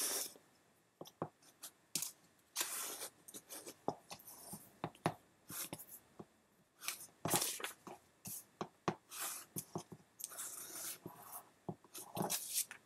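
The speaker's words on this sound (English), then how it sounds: "I'm just going to rough cut these apart." Scissors snip and slice through quilt fabric pieces in short, irregular bursts close by, faint and quiet, with brief gaps between cuts and no voices.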